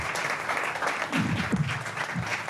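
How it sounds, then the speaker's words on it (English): An audience claps for a group of presenters at a West Virginia event, giving a continuous, fairly even round of applause, with brief low cheers or whoops rising partway through. "A round of applause for these awesome people."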